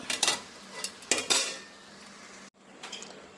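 A lid clanks onto a cooking pot of broad bean and tomato curry, with a few sharp metallic knocks and rattles up close, then quiet.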